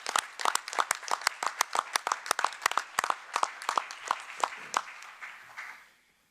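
A small group at a school board meeting claps, the individual hand claps sharp and distinct in a loose rhythm, fading out over the last second.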